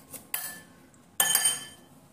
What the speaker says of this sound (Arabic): نص عصير ليمونه، وكمان شويه من الخل، معلقه من الخل، وهنقلبهم كده مع بعض